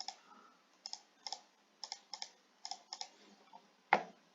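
Computer keyboard keys are typed in short bursts of crisp clicks for AutoCAD commands. A louder single keystroke at the end presses Enter. The sound is close and quiet, with nothing else heard.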